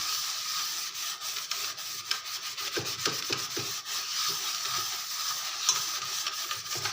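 Scrubbing rust off an iron kadai pan: close, rough rhythmic rubbing strokes against metal, a series of gritty scrapes with brief pauses and a few sharper knocks, no talk.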